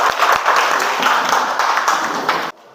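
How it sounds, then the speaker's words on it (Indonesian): A classroom of students applauds together in a dense, steady burst of clapping that carries on for a couple of seconds and then stops abruptly. "kita beri tepuk tangan untuk semua"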